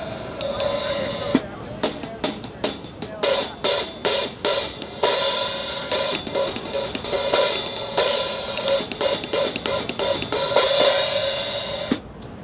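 14-inch Zildjian hi-hat cymbals played in a steady pattern of sharp chicks and washy openings, with a ringing, shimmering sustain throughout.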